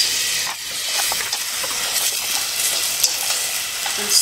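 Onions sizzle in about two tablespoons of warm coconut oil in a pan. The frying hisses loudly and steadily throughout, with small crackles and stirring noises.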